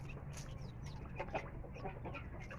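Chickens cluck in a backyard coop, with repeated short, soft calls scattered over a steady low hum. The birds sound fairly close but quiet, and no one speaks.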